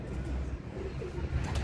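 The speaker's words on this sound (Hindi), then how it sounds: "तो ये कबूतर बैठे हैं अपने" Pet high-flying pigeons coo softly from their nesting area, a faint, low, rolling cooing over steady background noise, with no one speaking.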